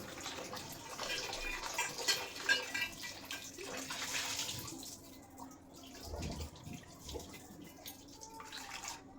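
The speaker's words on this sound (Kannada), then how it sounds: "ಫಸ್ಟಿಗೆ ಇದನ್ನು ಸ್ವಲ್ಪ ಬೆಚ್ಚಗಿರೋ ನೀರಲ್ಲಿ ವಾಶ್ ಮಾಡ್ಕೋಬೇಕಾಗುತ್ತೆ" A cast iron tawa being washed in warm water, with splashing and trickling water sounding close by over the first half and quieter dripping and handling noises afterward.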